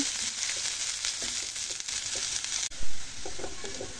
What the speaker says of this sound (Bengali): এখন এই পেঁয়াজটাকে লাল লাল করে ভেজে নেব।